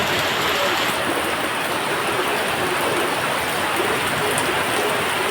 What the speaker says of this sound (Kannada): ಒಳ್ಳೆ ಮಳೆ.